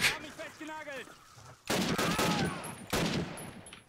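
Video game gunfire in a Call of Duty match, two sudden loud bursts of shots following a stretch of quieter sound with a faint voice.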